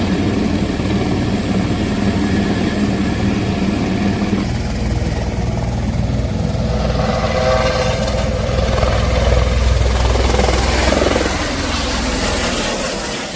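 Helicopter at the Munsyari helipad in Uttarakhand, a loud steady rotor and engine roar that fills the whole stretch and swells slightly midway, with no talk.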